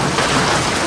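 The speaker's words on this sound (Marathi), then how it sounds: "तर असं एकदम जोराचा पाऊस आला आणि गारा सुद्धा पडला" Heavy rain with hail pounds down on metal roof sheets, a loud, dense and continuous roar of close impacts with no voices.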